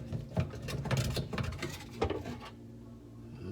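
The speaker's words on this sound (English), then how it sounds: "We will use the screwdriver. Ugh, there is some crud in there. To do some scraping work." Screwdriver scraping crud out of a sink drain, a close run of rapid gritty metallic scratches and taps that stops abruptly into near silence, with no talking.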